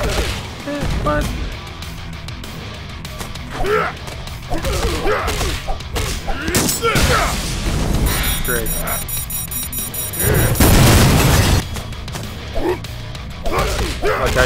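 Grenade explosions during a video game boss fight, several loud crashing blasts and thuds scattered among chaotic combat noise, with a person talking over parts of it.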